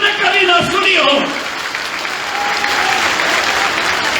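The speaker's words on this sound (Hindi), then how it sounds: "अरे ऐसी ताली बजनी चाहिए जो गोपाल जी ने अपने जीवन में कभी ना सुनी हो" A crowd at the Rehas Mela 2022 fair breaks into applause. A voice speaks briefly at the start, then dense, sustained clapping carries on loudly to the end.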